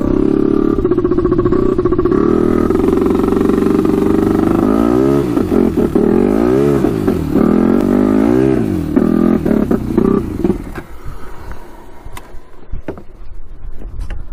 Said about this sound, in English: You can hear the turbo going